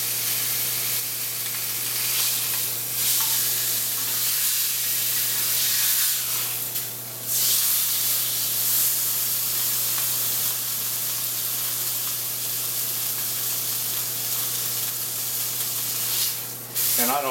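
Ribeye steak stood on its edge in a hot skillet, browning with a loud, steady sizzle and hiss that carries on unbroken throughout, with occasional brief swells of spattering.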